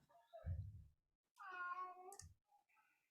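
A cat gives a single drawn-out meow, faint and fairly close, preceded by a soft low thump and followed by a brief quieter chirp.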